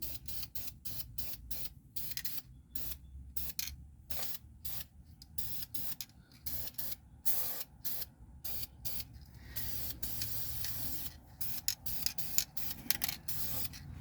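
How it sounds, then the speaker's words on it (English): Short bursts of aerosol spray paint hiss from a can onto a Scout 800, repeated in quick intermittent pulses with brief gaps, close and fairly steady. "I just keep spraying it on the where I want it, not everywhere else in the air"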